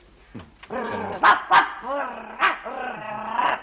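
A person imitates a dog, barking and growling in a voice with several separate woof-like calls in a row, close and loud, on a French television show.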